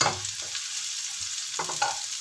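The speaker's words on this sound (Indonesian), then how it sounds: "Oke, kita goreng sampai harum." Shallots and garlic frying in a pan, a steady sizzle with a few stirring scrapes, close and fairly loud with no talking.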